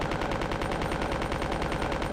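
A magazine is emptied in Resident Evil 2 on the original PlayStation, giving rapid, evenly spaced shots that merge into one loud, unbroken burst of game gunfire with nothing else behind it.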